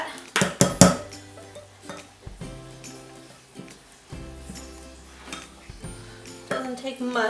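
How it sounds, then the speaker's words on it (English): Colorant being stirred into key lime pie soap in a container, producing repeated light clinks and scraping taps of a utensil against the sides, close and intermittent, while someone talks over it. "Let's mix that up and see what it looks like."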